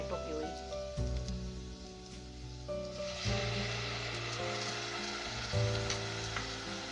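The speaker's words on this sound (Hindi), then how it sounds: "पूरे मसाले को मिक्स करना है। इसके बाद हम डालेंगे टमाटो प्यूरी।" Tomato puree hits hot fried masala in a pan, bursting into loud, steady sizzling and crackling that swells after the first few seconds, with stirring sounds and a voice speaking over it.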